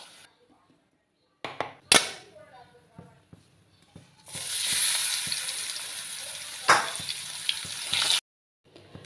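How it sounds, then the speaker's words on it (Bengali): Small koi fish rubbed with salt and turmeric sizzle loudly in hot oil for about four seconds, after a few sharp clatters and clicks, then the sound cuts off abruptly. "ছোট ছোট কই মাছ ধুয়ে কেটে রাখা হয়েছে, এটাকে আমি নুন হলুদ মেখে ভালো করে ভেজে নেব।"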